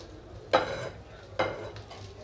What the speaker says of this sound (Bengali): আমি এখন একটু করেই ভাজবো। আমি এখন পিঠাটা দিয়ে দিব।